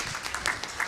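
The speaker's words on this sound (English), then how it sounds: "I think let's clap for ourselves." Participants at a judicial ADR training in a hotel clap for themselves in a short, dense burst of applause that is heard alone.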